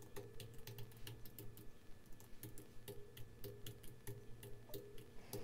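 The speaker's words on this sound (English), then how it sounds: "I'm going to begin typing, and I'm just going to go through and type out the alphabet." A computer keyboard being typed on at a steady, quick pace, each key press a crisp click, fairly faint and close, with no talking over it.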